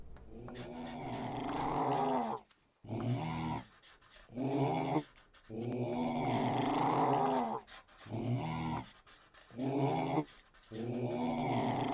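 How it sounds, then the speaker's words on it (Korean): Grandma character in the Roblox game Weird Strict Grandma growling like a dog, repeated rough snarling bursts of a second or two separated by brief silent gaps, loud and close. "강아지처럼 우르렁거려요"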